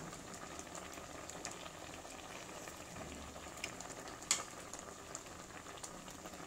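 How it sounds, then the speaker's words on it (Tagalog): A pot of vegetable stew with coconut milk and smoked fish bubbles softly at a low simmer, small pops and gurgles rising steadily, with one sharper pop near the end. "Ayan, kumukulo-kulo na."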